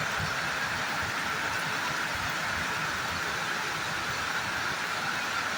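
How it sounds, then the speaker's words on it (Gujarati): Heavy rain pours down on a flooded village street in Madapur Kampa near Modasa, a steady dense hiss with no pauses filling the whole stretch, close and loud with no voices. "આવો વરસાદ ક્યાંય જોવા નહીં મળે મદાપુર કંપામાં"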